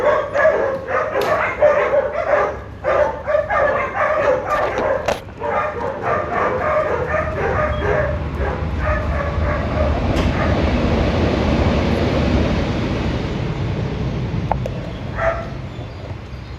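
A large female dog barks repeatedly in rapid, close, loud bursts for several seconds, then the barking gives way to a steady low rumble like a passing train, with a couple of faint barks later.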